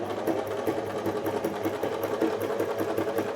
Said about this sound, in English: you're just pressing the pedal with your foot, your right foot precisely. Okay, so I'll just keep sewing.